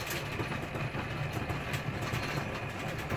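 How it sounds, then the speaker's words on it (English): Simulated engine rumble produced by PT actuator haptics, a steady low broadband idle-like drone that stays even and continuous throughout. "So they are engine haptics, they are haptics on the PT actuators."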